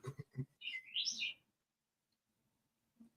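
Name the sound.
bird chirping outside a window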